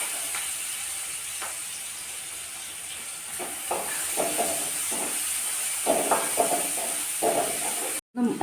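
Onions and curry leaves sautéing in a pan make a continuous sizzling hiss, with scattered clicks and stirring scrapes growing busier toward the end before a brief cut.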